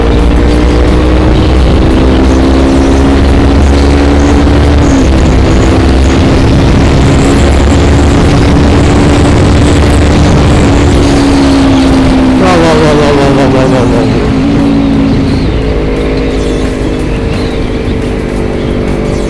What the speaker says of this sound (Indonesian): Sambil kita nyoba top speed ya motor saya ini.